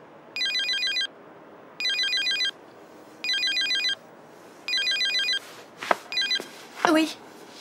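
A telephone rings four times in regular electronic trilling bursts with short pauses between them, then the handset is picked up with a clatter as people talk in a domestic scene.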